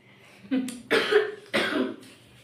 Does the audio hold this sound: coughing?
yes